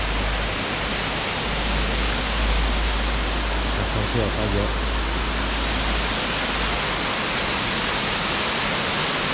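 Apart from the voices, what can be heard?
waterfall flowing out of the ground in Hokkaido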